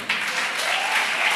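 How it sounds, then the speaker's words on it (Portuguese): Church congregation breaking into applause, a steady wash of clapping that starts abruptly and continues evenly, fairly close and filling the room. "Pode aplaudir."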